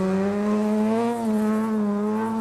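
Rear-wheel-drive rally car with a rotary engine at a rally sprint, holding a steady, buzzing high-pitched engine note with a slight waver, loud and close, heard alone.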